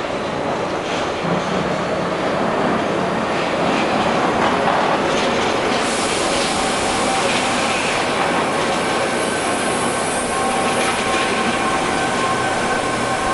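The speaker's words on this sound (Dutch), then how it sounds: "En dan komt de trein." A Wendelsteinbahn mountain rack railway train rumbles along steadily from the summit station with rhythmic wheel clatter and occasional high metallic squeals, loud and close throughout.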